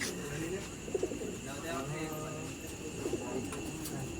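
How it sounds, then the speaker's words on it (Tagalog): Young racing pigeons coo softly in a couple of short bursts while being loaded into crates for the truck, with people talking and a steady background hum throughout. "siya na yung maglalagay ng ating mga ibon dito sa crates"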